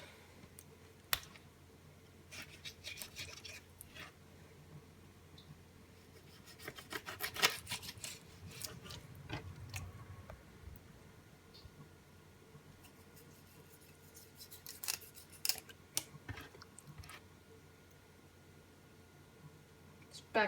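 Scissors snipping the fins off a cleaned trout, a series of quiet, sharp clicks and snips at close range, some clustered around the middle and end, over low background hiss with occasional handling rubs.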